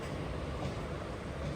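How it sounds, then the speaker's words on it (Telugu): A train of ICF coaches hauled by a WAP-4 electric locomotive rumbles past at Rajahmundry station, a steady, dense rolling roar with no distinct clatter, heard without speech. "అటు సైడ్ నుంచి ఒక ట్రైన్ అయితే బయటకు వచ్చేస్తుంది."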